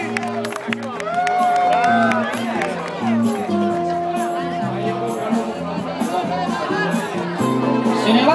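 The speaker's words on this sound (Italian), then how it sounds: "Diamo un applauso intanto per l'impegno alla prima squadra" A crowd applauds and cheers the first team at an outdoor grape-stomping contest, loose clapping and hubbub mixed under lively background music and a talking announcer.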